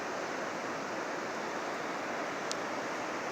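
Steady broadband rush of Milk Creek swollen with snowmelt along the Pacific Crest Trail, a continuous close, even roar of flowing water with no talking.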